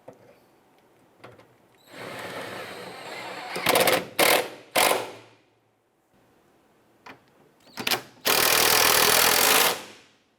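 Socket wrench with an extension snugging down the fuel tank strap bolts on a 2007–2012 Nissan Versa, heard as close metallic ratcheting bursts and clicks, with a longer run of rapid ratcheting near the end and quiet gaps between.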